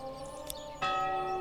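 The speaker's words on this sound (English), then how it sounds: "Now this is an awesome bell." A church bell in the medieval village-building game Manor Lords strikes once with a loud resonant clang that hangs in a sustained ringing tone, heard over soft ambient game sound.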